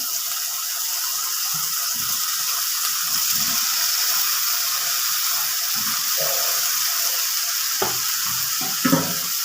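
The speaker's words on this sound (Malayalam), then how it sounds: "മിക്സ് ചെയ്ത് വെച്ചിരിക്കുന്ന ഉരുളക്കിഴങ്ങ് ഇട്ട് കൊടുക്കുകയാണ്" Diced potatoes for a Kerala-style stir-fry hit hot oil in a pan, giving a steady, loud broadband sizzle throughout, with a few soft scraping clinks of stirring near the end.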